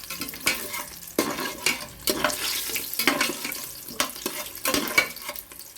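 Cashew nuts frying in oil in a home kitchen pan while cooking mint pulao, with repeated stirring scrapes and clatter over a steady wet hiss, close and moderately loud, with no talking.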